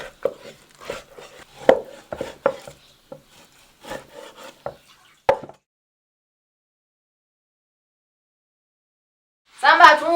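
A knife chops pork into cubes on a wooden board for salting and curing, with a run of irregular close chops and taps over about five seconds, then quiet, then a brief rustling burst at the end.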